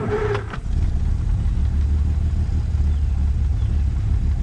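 A vintage Rolls Royce 20 engine starting with a short cranking burst, then catching and settling into a steady low idle, close and loud.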